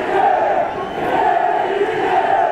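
A nearly full stadium crowd in freezing weather fills the air with a steady, loud roar of cheering and shouting at a Supercup match, sustained throughout with no clear breaks.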